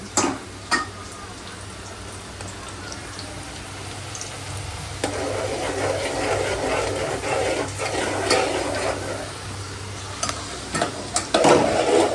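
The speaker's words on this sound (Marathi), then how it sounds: "असं कंटिन्यू हलवत राहू." Chicken masala fries in a pan and is stirred without pause, giving a steady close sizzle with scraping strokes and occasional clinks of the spoon against the pan.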